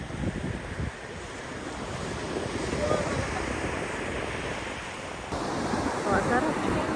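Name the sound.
sea waves on a beach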